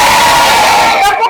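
Children in a classroom clapping game shout together loudly in a short burst, a close, energetic group cheer filling the room.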